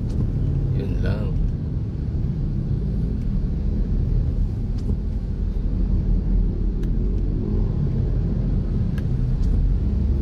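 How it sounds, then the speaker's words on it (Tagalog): Heavy road traffic on EDSA heard from inside a car, a steady low rumble of engines and tyres that holds for about ten seconds with faint distant knocks, under a muffled voice. "lalong bumigat ang traffic dito"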